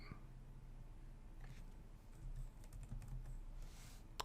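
Quiet, scattered keystrokes on a computer keyboard as the Linux cd command is typed, a few soft clicks over a low steady hum.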